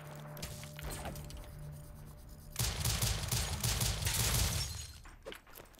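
Rise & Shine gameplay gunfire: lighter scattered shots at first, then from the midpoint a dense, louder barrage of rapid fire and shattering impacts that thins out at the end.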